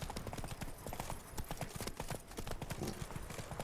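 The horse Roach gallops in The Witcher 3: Blood and Wine, with rapid, rhythmic hoofbeats pounding steadily and close for the whole stretch.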